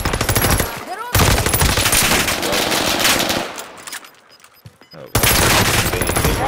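Rapid automatic gunfire in the video game Call of Duty: Modern Warfare, loud close bursts of shots that stop for a brief lull and then resume, with a player's voice faintly underneath.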